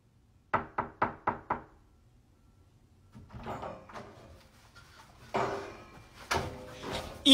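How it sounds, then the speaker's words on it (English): Five crisp, evenly spaced knocks rap on a wooden bedroom door, loud and close in a quiet room, followed by softer rustling and the clatter of the door being handled. "A simple knock."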